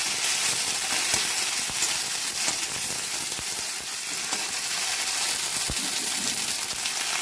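Cabbage tipped into a hot pan over spices and ginger that have already been fried, giving a loud, steady sizzle with scattered sharp pops and crackles throughout.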